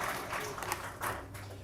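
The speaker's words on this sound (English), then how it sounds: "So we had a round of applause for you." Brief applause from an audience at the Partnership for Sustainability Award 2021 ceremony, a soft wash of clapping at moderate distance with faint murmuring beneath it.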